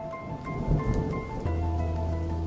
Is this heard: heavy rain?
yes